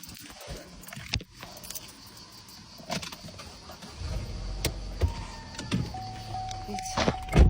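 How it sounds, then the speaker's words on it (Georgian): Inside a car, an electric window whirs, keys jangle and a few thunks sound before the engine turns over. A low engine rumble then builds as the car edges forward a little. "მივწევ მანქანას წინ ცოტა"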